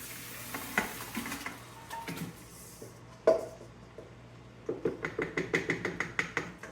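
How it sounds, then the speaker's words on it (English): Tomatoes go into a pot of sautéing onions and garlic, giving a soft sizzle with a few clunks and scrapes, then a quick run of rhythmic stirring taps near the end, close and fairly quiet. "Alright, now we are gonna add in our 6 pounds of tomatoes."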